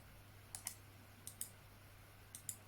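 A 3Dconnexion CadMouse Pro Wireless mouse button is clicked three times, each a quiet, close double click of press and release, spaced under a second apart over a faint background hum.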